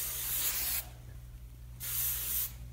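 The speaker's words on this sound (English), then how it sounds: "Just a little spray to hold everything in place." Two bursts of aerosol spray hiss, close and steady, separated by a brief pause, over a low background hum, as a West Highland White Terrier's coat is sprayed while being groomed for a dog show.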